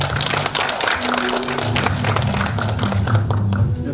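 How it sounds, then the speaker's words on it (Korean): Audience applause at a Korean public forum on a life-saving national movement, greeting the panel's chair; dense, steady clapping fills the whole stretch, fairly loud with a low hum underneath. "여러분 뜨거운 박수 부탁드리겠습니다"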